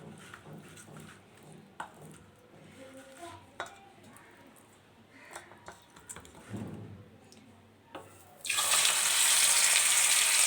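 After quiet clinks and handling, fish pieces drop into hot oil in a pan and a loud, close, hissing sizzle bursts up and continues steadily.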